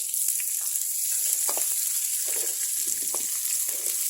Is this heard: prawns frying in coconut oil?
yes